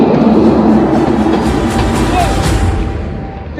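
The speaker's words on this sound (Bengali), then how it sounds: "এই ট্রেনটা চলে আসছে, তো একটু দেখি।" A train rolling past on rails close by, a dense, loud rumble with rattling wheel noise that holds steady and eases slightly toward the end.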